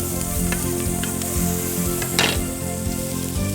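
Garlic sizzles in hot melted margarine in a pan, a continuous crackling hiss with stirring scrapes and a sharp clatter near the middle, close and alone.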